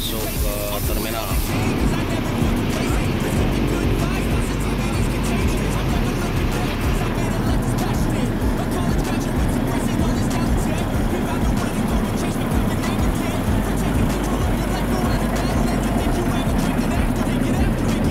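A bus pulling into the Pondok Pinang bus terminal in South Jakarta, its engine rumbling steadily for the whole span, with people talking nearby over the motor noise.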